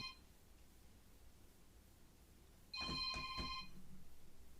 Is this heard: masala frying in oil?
no